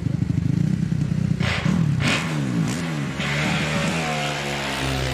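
A race motorcycle launches hard off the start line at Prescott hill climb, its engine screaming loud and close, revving through quick gear changes as it pulls away.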